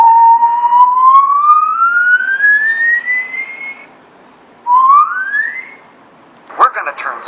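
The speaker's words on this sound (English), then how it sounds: "So I'll just whistle." A person whistles a simple tone that glides slowly upward for a few seconds, then a shorter rising whistle follows after a pause, ending with a brief noisy burst.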